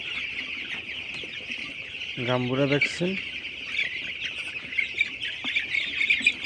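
Chickens on a poultry farm on the tenth day after their second vaccine dose: a loud, close squawking call rises briefly near the middle over a steady high insect-like drone, with scattered softer clucks and faint voices around it.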